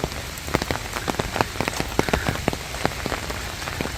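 Rain patters onto leaves and ground in Khandak Bag garden, Solapur, with distinct drops tapping irregularly over a soft, steady wash of rainfall.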